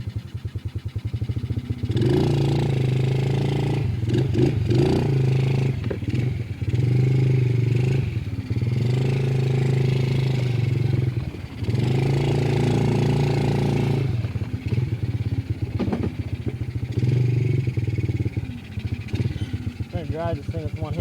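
A small Edge 90cc ATV engine idles low and steady close by, its putter broken by brief clattery bursts and rises in revs.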